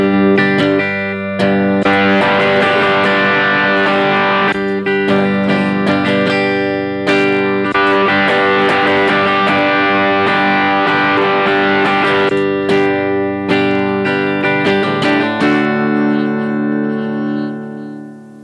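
Distorted electric guitar rings out through an Egnater Rebel tube amp head, sustained chords and bursts with bright overtones, loud and close, fading out at the end.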